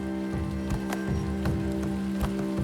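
Heavy rain pours down steadily in Tadoba forest, a dense, continuous hiss with scattered heavier drops, loud and unbroken throughout.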